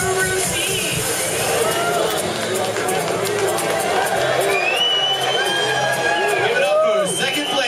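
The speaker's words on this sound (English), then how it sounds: "Let's hear it for Rockstar from Bomb Guru C." Crowd cheering and whooping for a second-place hybrid category winner at the Cannabis Cup awards in Amsterdam, a dense, steady roar of many voices with scattered shouts and whistles throughout.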